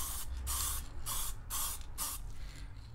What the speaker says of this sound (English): take your secondary color, spray it on top